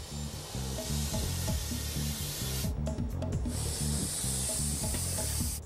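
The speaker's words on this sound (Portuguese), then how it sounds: "Encher 12 balões meteorológicos com gás hélio é um processo demorado." Helium gas hisses steadily as it fills a weather balloon, a broad continuous rushing sound with a rhythmic rubbing texture underneath that briefly shifts in tone midway.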